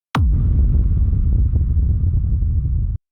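A hard techno rumble kick with its bass made mono below 120 Hz: a single punchy hit, then a dense, loud low-end rumble that throbs evenly for about three seconds before stopping abruptly, alone.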